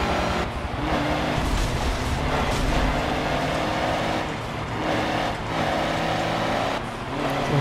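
Diesel truck engine in Forza Motorsport 7, a steady loud drone with broad rushing noise that dips briefly a few times, heard alone without talking.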